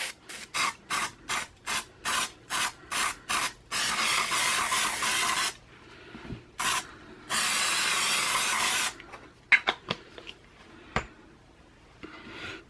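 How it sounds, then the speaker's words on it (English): Cleaner sprayed onto a suede bag: a quick series of about ten close, sharp hissing spray bursts in steady rhythm, then two longer sustained sprays and a few scattered lighter hisses. "I think I sprayed a little too much."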